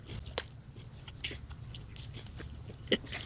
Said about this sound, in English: chew in the mic. ASMR, Jim